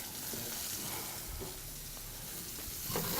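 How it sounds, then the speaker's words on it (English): Salmon fillet searing in a hot pan gives a steady, close sizzle and crackle with a few soft clicks and bumps of handling, building slightly louder toward the end. "I'm searing the salmon"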